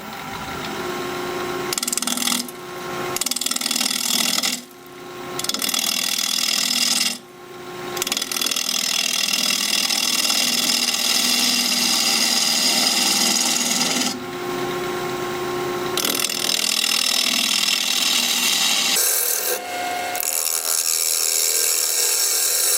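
Live oak turned on a wood lathe at a little over 1200 RPM with a half-inch bowl gouge, a continuous loud scraping rasp of cutting broken by several short pauses where the tool lifts off.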